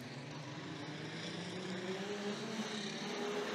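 Street stock race cars pull away at the start of a feature race on a clay track, a fairly distant engine drone rising slowly in pitch and loudness.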